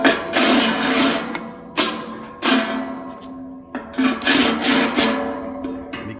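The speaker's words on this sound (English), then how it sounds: "Then we come from the other side to kind of deburr it." A power drill whirs in repeated loud bursts while deburring a freshly drilled hole in metal for a winch kit install, each burst starting and stopping with short pauses between.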